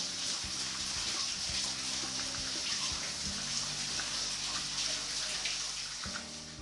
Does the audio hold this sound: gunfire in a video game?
no